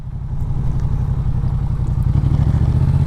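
A motorcycle engine runs with a steady, loud low rumble, and a light dab of throttle lifts it slightly without any sharp rev.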